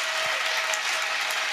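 A church crusade congregation in Bafoussam applauds together, a continuous close, bright rush of many hands clapping with a faint steady tone running beneath it.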